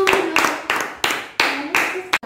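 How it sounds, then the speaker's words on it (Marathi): Schoolchildren clap together in a classroom during a mind game activity, five or six sharp group bursts with a steady rhythm, loud and close, with faint voices in between. "ओके टाळ्या वाजवा त्याच्यासाठी"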